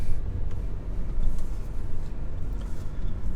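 A steady low rumble from a 2020 BMW M340i as it drives and turns into a dealership, heard from inside with road and engine noise and faint ticking.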